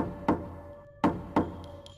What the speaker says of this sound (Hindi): मुख्य दरवाजे पर तीन बार जोर से खटखट हुई।